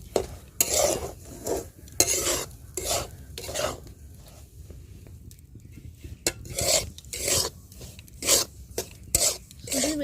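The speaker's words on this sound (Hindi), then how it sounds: "एबे से सेम तेल में सुजी दे दो। सुजी हल्का लाल हो गया भाजा" Semolina (suji) roasting in oil in a pan, stirred with repeated scraping and rasping strokes of a spoon across the pan bottom, close and rhythmic with a faint sizzle and a quieter lull midway.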